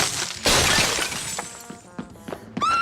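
Cartoon sound effect of a frozen statue shattering: a loud burst of breaking ice or glass, then scattered tinkling fragments and a final bright ringing chime, with no voices.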